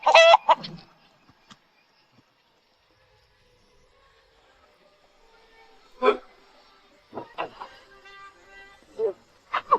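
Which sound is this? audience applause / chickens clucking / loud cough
chickens clucking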